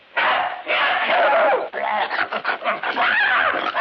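A dog in a 1951 comedy film barking and yelping excitedly in loud, bursty volleys, with the barks running close together and choppy toward the end.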